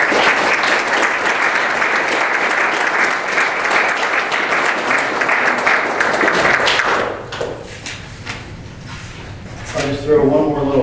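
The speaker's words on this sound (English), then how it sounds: "Please give them a round of applause" Loud sustained applause from an audience at a town board meeting honouring firefighters, dense clapping that drops off abruptly about two-thirds through, followed by quieter thumps, shuffling and a voice starting to speak.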